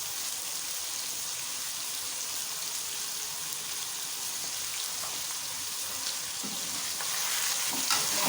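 Chicken fries with turmeric, coriander powder, salt and crushed red chili, making a constant, fairly quiet hiss of sizzling oil with a few soft stirring scrapes near the end, and no one speaking.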